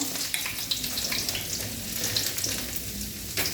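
Mustard seeds and onion fry in hot oil for a rasam tempering, a steady close sizzle dotted with small crackles and pops, with no talk.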